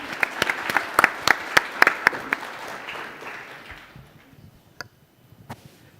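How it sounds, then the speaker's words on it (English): Audience applause following a talk at a science forum, a burst of sharp individual claps that fades away over a few seconds, leaving scattered late claps in a quiet hall. "let's give it a round of applause"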